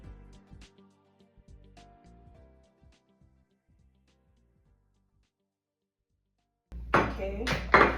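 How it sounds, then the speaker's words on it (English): Chunks of mango, pineapple and strawberry drop into a blender jar for a smoothie, a run of hollow clinks and soft thuds that thin out and fade, followed by a voice speaking close by. "So I'm gonna add the fruits to the blender."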